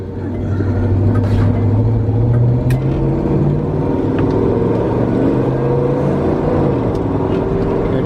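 A 1972 Chevrolet Malibu Chevelle with an original low-mileage 350 cubic inch V8 accelerates up to speed on the road, its deep engine rumble loud and steady with a rising drone and road noise around it.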